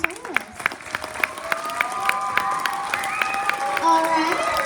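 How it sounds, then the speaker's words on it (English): Scattered clapping at a school general music concert for two student soloists, fairly close, with a sustained tone and voices talking over it. "Round of applause for our 2 soloists."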